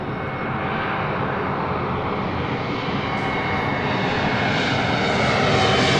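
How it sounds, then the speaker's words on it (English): A Delta Airlines Airbus A321neo lands, its engines sending a loud, steady roar with a whistling whine on top that slowly grows nearer and louder throughout. "This is Delta Airlines 2657 coming in from Salt Lake City, Utah on an A321 Neo."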